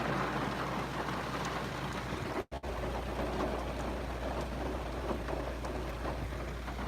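Steady rain patters on a car during a drive, a soft continuous hiss with a brief dropout partway through and no talking.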